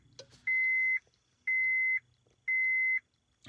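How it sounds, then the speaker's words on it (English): Three identical electronic beeps from a Kingbolen S500 scan tool sound at an even pace, each a bright, steady half-second tone separated by short pauses, with faint handling noise around them. "Forgive the beeping again."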